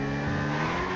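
Car engine roaring steadily with tyres skidding and squealing in GTA 5 gameplay, loud and continuous throughout.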